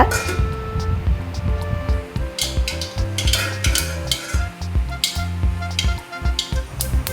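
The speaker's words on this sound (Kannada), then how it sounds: "ಒಂದು ಬಾಣಲೆ ಬಿಸಿಗಿಟ್ಟು 2 ಚಮಚ ಎಣ್ಣೆಯನ್ನು ಹಾಕಿ ಬಿಸಿ ಮಾಡಿ ಸಾಸಿವೆ ಹಾಕಿ ಸಿಡಿದ ನಂತರ" Mustard seeds splutter in hot oil in a pan for a tomato rasam, a crackling sizzle broken by metallic clinks and stirring scrapes of a spoon against the pan, close by.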